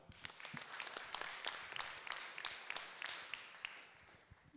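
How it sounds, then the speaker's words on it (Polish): A crowd at a Polish award ceremony gives warm applause, a dense, steady run of many hands clapping with sharp individual claps standing out, lasting several seconds without speech. "Ogromne brawa."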